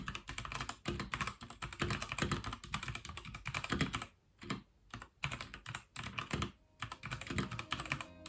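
Typing on a computer keyboard while drafting text, rapid clattering keystrokes in bursts with short pauses, close and steady, no talking.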